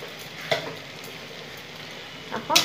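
Spiced potatoes for aloo bhurji, seasoned with turmeric and black pepper, sauté in a pan with a steady close sizzle and two louder bursts of stirring.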